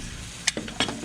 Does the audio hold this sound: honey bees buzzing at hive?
no